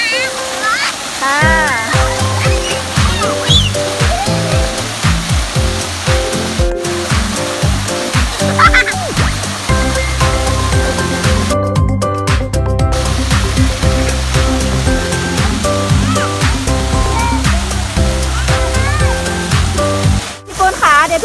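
Warm waterfall at Phu Sang in Phayao, Thailand, pouring in a continuous loud rush and splash close by, with excited voices and laughter on top throughout.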